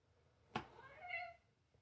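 A single cat meows once, fairly close and clear, with a short rising then falling call, set against quiet room background in an indoor setting.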